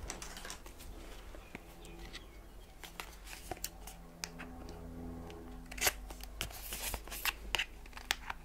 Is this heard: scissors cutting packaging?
yes